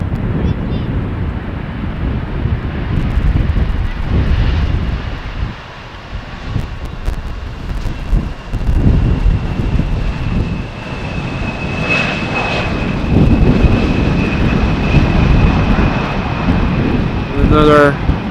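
An airliner landing in a crosswind on runway 18R at Amsterdam Schiphol, a loud jet engine roar with heavy wind buffeting on the microphone and a faint high whine, sustained throughout.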